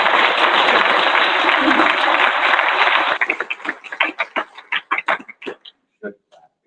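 Audience applause at a hospital town hall on regional and Wilkes-Barre hospitals: dense, steady clapping for about three seconds, then thinning into scattered individual claps that fade out.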